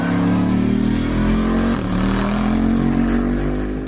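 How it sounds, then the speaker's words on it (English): Lexus LFR prototype engine at the Nürburgring, a deep, restrained growl held loud and steady throughout with rich low harmonics, heard alone with no talk. "The LFR doesn't shriek like V10 LFA did, it's more of a deep, restrained growl"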